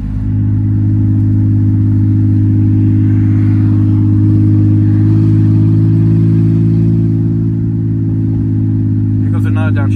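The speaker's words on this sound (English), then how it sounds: "Just listen to this downshift." Loud, steady rumble of a straight-piped Mercedes C300 exhaust as the car downshifts, a deep droning engine note sustained up close for the whole stretch.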